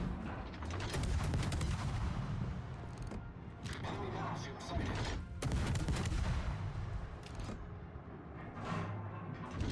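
Warship guns fire in World of Warships during a Tier 10 Soviet destroyer Khabarovsk battle. Dense, rumbling volleys and booms overlap almost continuously, with sharper cracks now and then.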